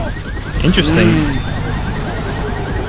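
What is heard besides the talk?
car alarm in Left 4 Dead 2 video game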